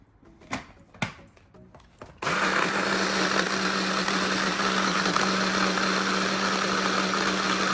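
A few knocks and clatters, then a blender starts up abruptly and runs loud and steady, mixing a dressing with Dijon mustard, a constant whirring motor drone to the end.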